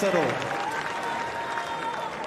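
Tennis crowd at the 2024 US Open applauding after a hold of serve, a burst of clapping and cheering that fades to a steady murmur, with a commentator talking over it.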